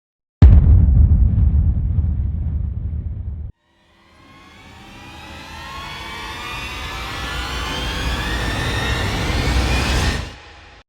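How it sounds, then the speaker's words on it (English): A garbage truck comes around the corner, its low rumble starting abruptly and cutting off, then after a brief gap a rising engine whine builds steadily in pitch and loudness before stopping sharply. "The garbage truck is coming around the corner."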